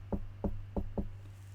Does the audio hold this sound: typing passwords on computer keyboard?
no